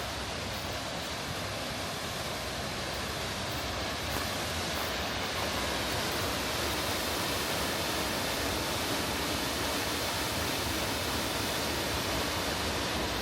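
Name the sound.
waterfall at the Great Falls Mill ruins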